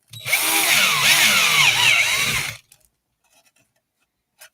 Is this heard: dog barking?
no